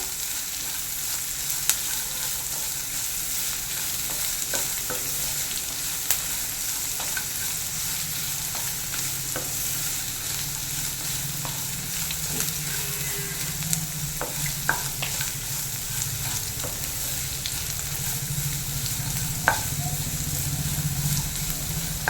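Chopped onions fry in oil in a pan for a Kerala beans stir-fry, a constant close sizzle with occasional soft scrapes and taps as they are stirred.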